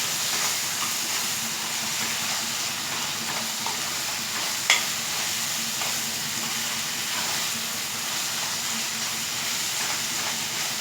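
Onions and curry leaves frying in a pan for gonguru mutton curry, a constant hissing sizzle close by, with one brief clink of a utensil partway through.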